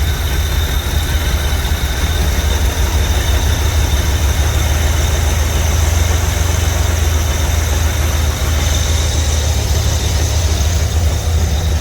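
1973 Buick Riviera boat tail, saved from a junkyard and with its carburetor needing tuning, running at a steady idle: a continuous deep engine drone with a faint ticking overtone, loud and close, no speech.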